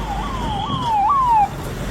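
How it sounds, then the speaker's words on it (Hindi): An emergency siren wails with rising and falling tones, loud and steady for about a second and a half over a low rumbling street background, then cuts off. "चारों तरफ एम्बुलेंस के सायरन गूंज रहे थे"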